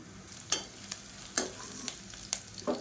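Onions sautéing in a pan for a peas and potato curry, a soft steady sizzle broken by sharp scraping clicks of a spoon stirring about every half second, close up with no talking.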